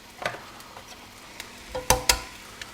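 Eggs cracked on the side of a hot pan for an omelet give a couple of sharp taps, then a faint sizzle. A few sharper clicks follow from close by, and no one speaks.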